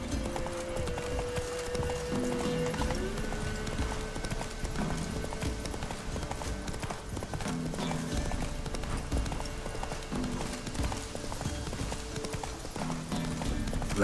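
The horse Roach gallops in The Witcher 3, with steady rhythmic hoofbeats continuing throughout over a constant game background bed, with a faint low voice in places.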